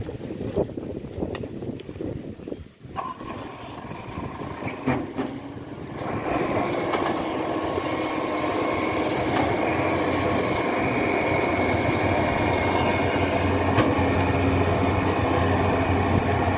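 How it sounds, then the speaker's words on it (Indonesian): A Maximo 102 combine harvester driving into a rice field at Kuatingan, Ngawi, during harvest, making a continuous rumbling engine drone that grows louder and steadier partway through, with wind noise on the microphone. "Di Maximo 102 mau masuk lahan di persawahan Kuatingan Ngawi"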